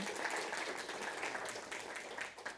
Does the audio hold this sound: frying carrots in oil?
no